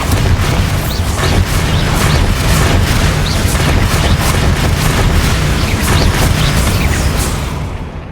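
Spell explosions from the Bombarda charm in Hogwarts Legacy, a dense continuous barrage of loud booming blasts and crackling bursts layered on one another for several seconds, with no talking.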